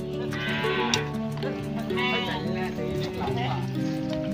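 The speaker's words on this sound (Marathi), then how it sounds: "मेंढे पण आहेत दोन" Sheep bleat repeatedly among goats in a rural Konkan village yard, wavering calls sounding close under people's voices.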